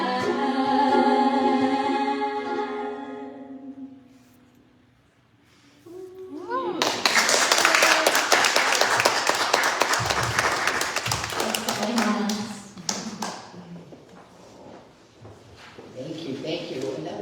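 A church congregation bursts into applause during a Mother's Day service, loud dense clapping that rises right after a sung passage and then fades into scattered claps and voices.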